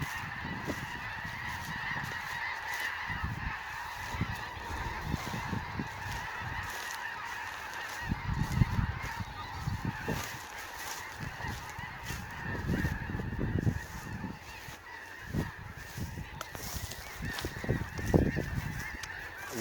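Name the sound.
flock of birds honking as they take off and fly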